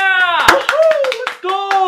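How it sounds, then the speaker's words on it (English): A crowd of animals claps in a cartoon savanna scene, with quick scattered hand claps mixed with excited voices cheering and calling out over them. "look, honey, they're clapping for our son"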